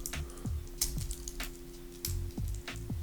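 Twin-trigger fold-over clasp on a Seiko Monster steel bracelet clicking, several small sharp metallic clicks spaced unevenly over a faint low hum, close and quiet.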